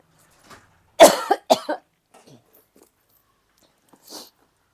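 A person coughs hard twice in quick succession, close and loud, followed by faint small sounds and a brief breathy noise near the end.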